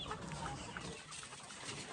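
White Leghorn chickens cluck in an elevated breeding pen. Several birds sit close by, giving scattered short clucks over a steady, noisy farm background with no talking.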